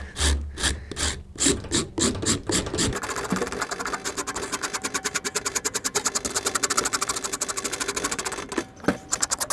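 A pocket knife scrapes rendered beeswax off a surface in repeated short strokes, first a few separate rasps and then a fast steady run of scraping, close and clear.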